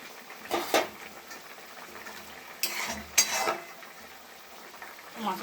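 Rohu fish curry gravy boiling in a pan, a soft bubbling simmer under a few sharp clinks and scrapes of a utensil against the pan.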